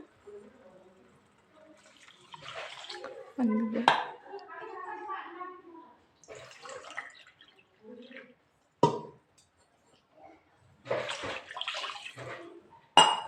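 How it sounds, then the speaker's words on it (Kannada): Water is poured by the glassful into a pot of rice with vegetables and masala for vegetable pulao, coming in a few splashy bursts amid kitchen clatter, with someone talking between pours. "2 ಗ್ಲಾಸ್ ಅಕ್ಕಿಗೆ 3 ಗ್ಲಾಸ್ ನೀರು ಹಾಕಬೇಕು."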